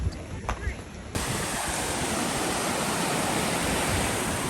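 Ocean surf at a sunny beach on Hamilton Island near the Great Barrier Reef, a steady broadband wash of breaking waves that fills in fully after a quieter first second.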